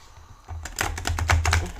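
Tarot cards being shuffled in a psychic reading, a run of quick crisp riffling flicks that grows busier and louder after a brief quiet start, with no talk over it.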